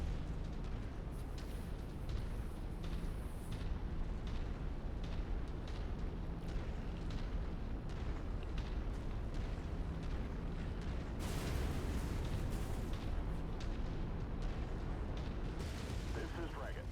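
In the Mechwarrior 5 video game, a destroyed vehicle explodes amid continuous rumbling battle noise, with a sharper burst of blast noise partway through and steady heavy background roar throughout.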